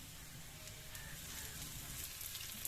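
Capsicum and spices frying in oil in a pan, a steady close sizzle that holds even throughout with a faint crackle and no voices.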